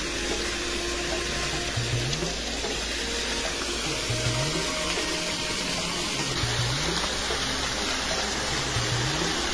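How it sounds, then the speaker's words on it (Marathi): Borewell water gushing under pressure through a clamp, about 10 to 12 inches of flow, a loud continuous rushing roar that stays steady throughout. "क्लॅम्प मधून हे एका प्रेशरने पाणी चाललंय"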